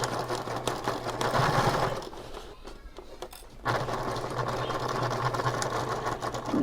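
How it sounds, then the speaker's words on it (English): A sewing machine stitches across a thick center seam of a handbag, a fast steady mechanical whir that pauses briefly midway, then resumes at full speed. "Now I will sew across this."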